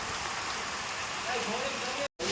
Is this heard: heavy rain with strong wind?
yes